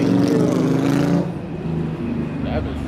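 Loud, close rumble of heavy road traffic at an airport, buses roaring past, with voices talking over the din.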